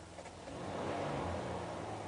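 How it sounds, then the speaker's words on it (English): A 2010 Chrysler Town & Country Touring van with 55,590 miles idles close by, its engine a steady hum that swells slightly partway through, with no talking. "The car is running right now."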